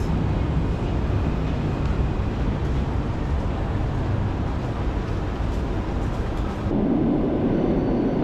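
A train from Warszawa Wschodnia to Kraków Główny rolls into a station, giving a continuous low rumble of wheels and carriages close by that grows heavier toward the end.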